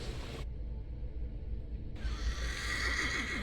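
A horse in The Thaumaturge gives a loud, close whinny with a shrill rising and falling neigh, followed by a brief snort and faint shuffling.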